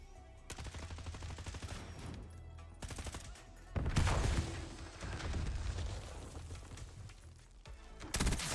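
Rapid bursts of automatic gunfire from the PC shooter Black Ops 2, loud and repeated in clustered volleys with heavier impacts toward the middle, filling most of the stretch.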